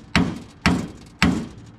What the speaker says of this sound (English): I'm using a really big hammer so I can hit it just lightly.